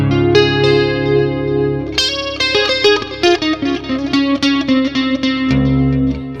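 An electric-acoustic guitar through a Boss Katana Acoustic amp plays sustained chords and then picked notes, with a pulsing tremolo and echoing delay repeats trailing behind.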